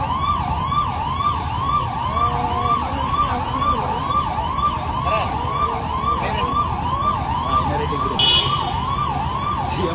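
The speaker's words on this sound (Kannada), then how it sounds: "ಎದುರುಗಡೆ ಒಂದ್ ಆಂಬುಲೆನ್ಸ್ ಒಯ್ಯ ಒಯ್ಯ ಒಯ್ಯ ಅಂತ ಬಡ್ಕತ್ತದೆ." An ambulance siren wails continuously in a steady repeating rise-and-fall cycle, loud and close, with a faint background voice now and then.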